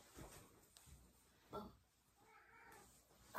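A house cat gives a few soft, faint meows at close range in a quiet room, one short cry standing out clearly partway through.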